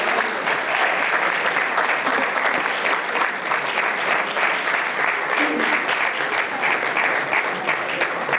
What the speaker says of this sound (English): Let's give another round of applause to Rabbi Menashe, please.